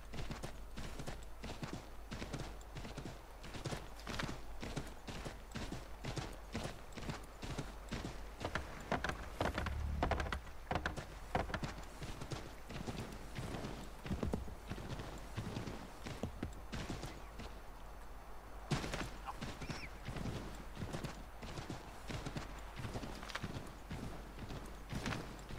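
Hooves of a horse in the video game Assassin's Creed III clip-clop in a steady, rapid rhythm throughout, close and even-paced, with a low rumble underneath and a brief whinny partway through.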